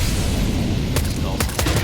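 Gunshots in a Counter-Strike pro match fired through smoke, a few sharp cracks spaced out over steady game noise and crowd ambience.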